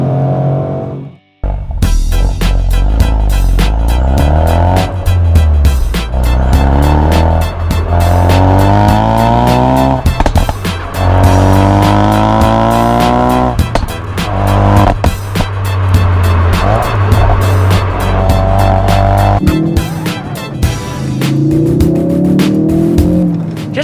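A Ford Focus RS hot hatch is driven hard, its engine loud and close, revving up and dropping through repeated gear changes, with tires squealing intermittently under steady cabin roar and no talking.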